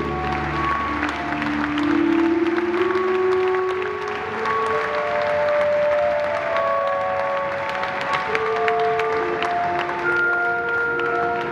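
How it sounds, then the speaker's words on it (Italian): An audience applauds performers on stage, steady clapping running the whole time beneath sustained music tones, moderately loud and unbroken. "Un applauso per Armando,"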